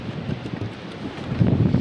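Steady wind buffets the microphone at a campsite in Australia, a low rumbling roar that swells and gusts louder toward the end, with no voices.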